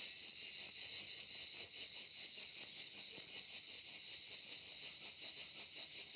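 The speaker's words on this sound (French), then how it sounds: "dans les campings, ils peuvent pas dormir, hein, il y a des cigales" Dense cicadas in the south of France buzz in a continuous, shimmering chorus at moderate loudness, pulsing slightly with no voices present.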